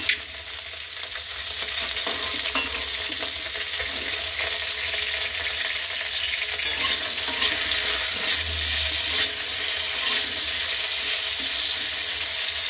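Taro and a small potato fry in a pan with a steady, dense sizzle that lasts throughout, close and fairly loud, with stirring and no talking.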